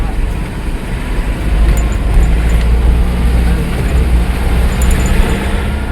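Road traffic crawling along a narrow village road near Kasheli Beach in Ratnagiri: a steady low engine rumble of passing cars and heavier vehicles, loud and close, with no breaks.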